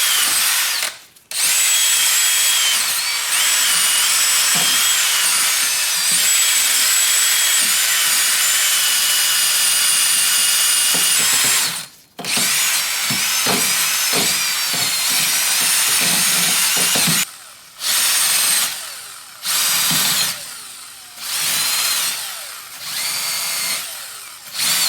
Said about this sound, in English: I will bring the wire brush and then clean this.